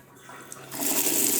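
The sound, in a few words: water running from an opened tap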